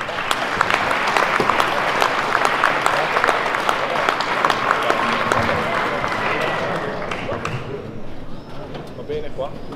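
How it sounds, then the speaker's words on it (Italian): A crowd at an outdoor folk and tavern choir festival in Bobbio applauds a choir, a steady wash of clapping that thins and fades toward the end, with birds cooing faintly in the background. "Fatevi un applauso."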